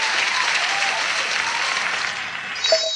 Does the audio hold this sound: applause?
yes